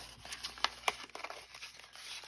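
Plastic packaging from a sewing-themed unboxing being cut open, with crinkling and a couple of sharp tearing snips standing out above a soft, close rustle.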